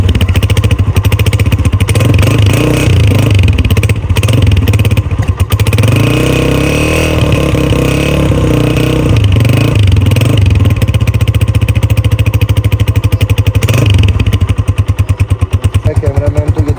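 A tuned Honda CG125 motorcycle engine runs close by, a loud, continuous single-cylinder thumping with rhythmic firing pulses that shift in pitch as it revs up and settles, plus mechanical clatter throughout.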